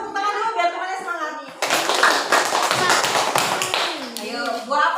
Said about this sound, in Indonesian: tepuk tangan dulu biar temannya semangat.